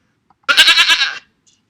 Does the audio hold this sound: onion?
no